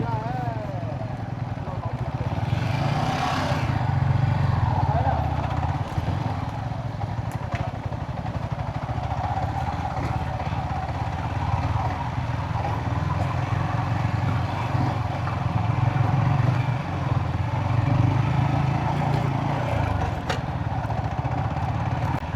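A Yamaha XSR155 motorcycle rumbles along a rough off-road track, its engine a steady low drone with clattering bumps, while riders talk over it.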